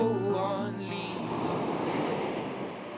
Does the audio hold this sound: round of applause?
no